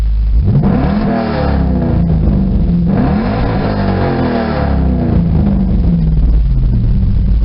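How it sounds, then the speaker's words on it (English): Car engine revved up several times, loud, close swells of rising and falling pitch over a steady idle rumble, captured on a cheap budget 4K camcorder, with no voices. "I'm going to rev it up."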